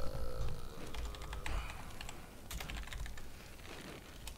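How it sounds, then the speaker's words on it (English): Rapid clicky tapping on a mechanical keyboard during a Far Cry Primal stream, irregular bursts of keystrokes at close range, fairly quiet with no voices. "I have a mechanical keyboard, so you hear every tap."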